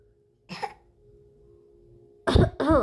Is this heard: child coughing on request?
yes